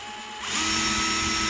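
A DEWALT XTREME 12V brushless drill at its fastest setting, quiet at first, then spinning up to a loud, steady high-pitched whine that holds close and unbroken to the end.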